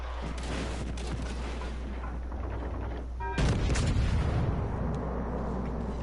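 Torpedo explosions in a PS4 video game, a continuous rumbling game soundscape that erupts into a louder, heavier burst of booming noise midway and stays dense to the end.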